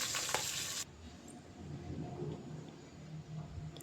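Onions frying in oil for a nati-style biryani with chilli paste going in: a loud hissing burst at the start, then a steady close sizzle with soft stirring underneath.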